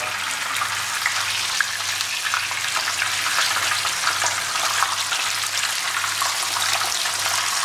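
Fish frying in mustard oil gives a steady, close, crackling sizzle that holds evenly throughout, with a faint low hum underneath and no talking.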